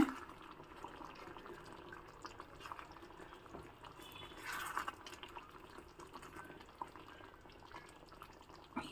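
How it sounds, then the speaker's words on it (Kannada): Quiet bubbling of boiling water, a soft steady simmer with small pops and a brief louder burst midway, heard close with no talking. "ಒಳ್ಳೆ ಕುದಿ ಬಂದಿದೆ"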